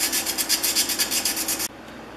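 A sanding stick rubbed back and forth on a small machine part, a rhythmic close scratchy rasp of about a dozen quick strokes that stops abruptly, leaving quiet room tone.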